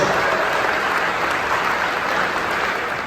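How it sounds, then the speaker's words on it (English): Dense, loud applause from the crowd at a school district athletics wall of fame induction, continuous and even clapping with no voices over it. "Let's have a round of applause for Mr. Paul Gavrovich."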